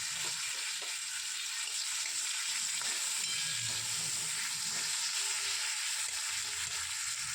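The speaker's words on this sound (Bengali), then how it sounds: "এদিকে আলু ভাজা ভেজে নেব" Potatoes frying in mustard oil in a pan give a steady, soft sizzle that runs throughout, close and even, with faint stirring and no talking.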